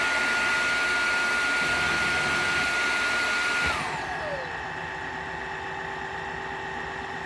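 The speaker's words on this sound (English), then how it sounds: "it's going to keep running this cycle and cleaning itself, and it should dry also, this roller" A UWANT wet-dry vacuum cleaner runs its self-cleaning cycle with a loud, steady whir close by. Partway through, the pitch drops and settles into a lower hum as the roller dries; no one speaks.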